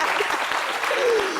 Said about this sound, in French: applaudissez Maï